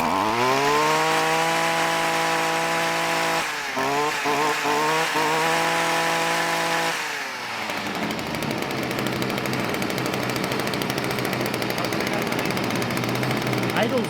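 A Stihl FS55R string trimmer engine with a hard-starting, fuel-spitting fault drones steadily up close, blips briefly mid-way, then settles to a lower, rougher idle that runs on to the end.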